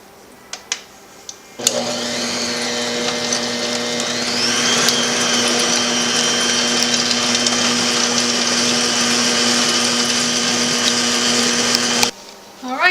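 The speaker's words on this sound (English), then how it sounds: "The first thing you want to do is beat your eggs." An electric mixer beating eggs for a carrot cake, switching on with a sudden start and running as a loud, steady motor whine for about ten seconds before cutting off, close up.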